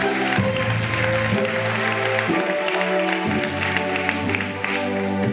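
Church congregation applauding during an Easter sermon, dense sustained clapping from many hands, loud and continuous with music notes underneath.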